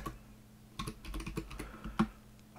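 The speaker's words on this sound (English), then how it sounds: "typing is not my strong suit," Keys clatter on a computer keyboard in quiet, uneven bursts of typing while code is entered, close and fairly soft, with one sharper keystroke near the end.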